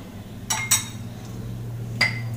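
A metal spoon clinks sharply against a pan three times, two quick knocks and then one more, as roasted semolina is stirred into ghee and thickened milk for Ganesh Chaturthi mohon bhog, sooji kheer, over a low steady hum.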